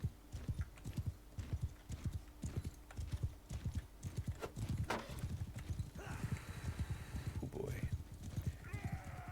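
Horse hooves galloping in the Mount & Blade II: Bannerlord video game, a rapid, loud clip-clop rhythm with occasional whinnies, mixed with battle noise and bursts of talk.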